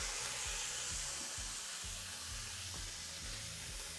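Wagyu steak sizzles steadily in a hot pan, a continuous close, fairly quiet frying hiss with no voices, broken by faint low knocks.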